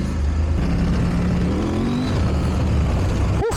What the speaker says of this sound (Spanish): Es que no veas cómo responde ahora la moto